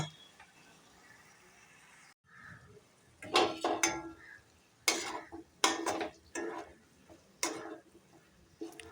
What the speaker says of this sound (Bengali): আদা রসুনটা একটু কষিয়ে নেব।